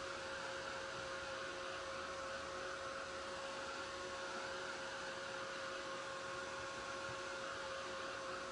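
A handheld hair dryer blows steadily and loudly on sheer tissue paper in a craft project, a continuous whooshing hum with no pauses or talk.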